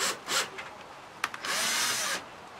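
A power drill whirs in short bursts, then runs steadily for under a second as a self-tapping screw bites into wood, close and fairly quiet with no talking.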